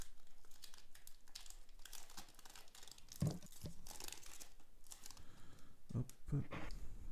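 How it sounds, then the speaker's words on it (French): Crinkly foil Pokémon GO trading card booster packs being torn and crumpled open by hand, with repeated close crackling rustles and a couple of sharper rips, no talking. "des fois je galère un peu à ouvrir les packs"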